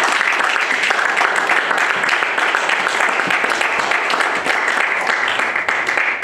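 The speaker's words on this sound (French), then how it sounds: "Est-ce qu'on peut donner une offrande d'acclamation à Jésus?" A church congregation gives Jesus a sustained round of applause during a French-language worship service. The dense, steady clapping fills the whole stretch at full volume with no pauses.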